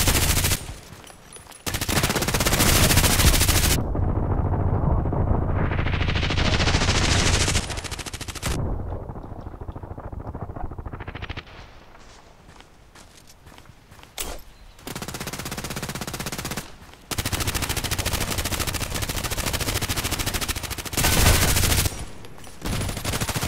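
Gunfire in the first-person shooter Contract Wars, loud rapid automatic bursts and single shots dominating throughout, with brief gaps and a reload between volleys, no talking.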